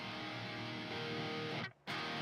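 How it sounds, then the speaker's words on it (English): Thrash metal guitar played through the Gojira plugin with its doubler engaged, giving a dense, distorted, sustained wall of tone that cuts out briefly near the end, with no talking. "what you're hearing right now is the doubler within the Gojira plugin here"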